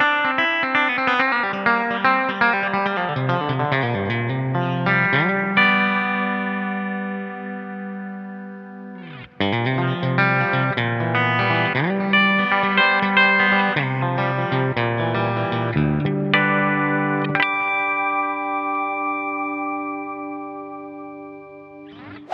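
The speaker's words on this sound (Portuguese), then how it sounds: "E esse sou eu tocando em sol aberto, agora de volta com reverb." Electric guitar in open G tuning drenched in reverb, strummed chords ringing out in two long phrases with a brief gap between, loud and sustained with shimmering tails and no talking.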